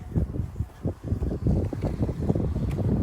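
Strong outdoor wind gusting against the microphone on a snowy evening, a loud continuous rumbling buffet with surging bursts throughout, no talking.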